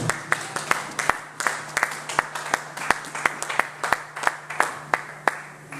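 A church congregation applauding, a steady run of rhythmic, evenly spaced claps close by, keeping time like a beat under a faint hum.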